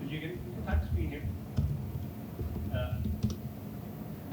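A command is typed on a computer keyboard in a few quick clicking keystrokes, heard faintly under ongoing conversation.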